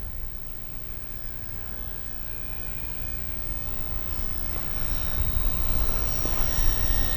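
An FMS Pilatus PC-21 RC model airplane flies overhead with a steady whooshing drone and a thin motor whine, growing slightly louder toward the end, with no talk.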